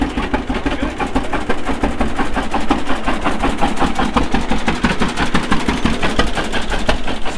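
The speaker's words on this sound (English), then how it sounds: "It's the first wide front tractor I've driven, and it's the first tractor with power steering that I've driven." Wide front tractor engine idling during a ride on a G model tractor, a steady rapid chugging pulse with low rumble, close and continuous throughout.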